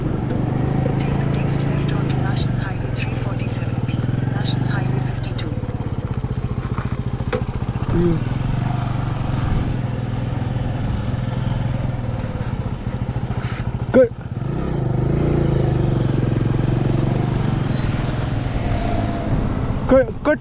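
A Hero Splendor motorcycle rides along a highway in Madhya Pradesh, its engine a steady close drone with wind rush throughout, and a voice talks over it.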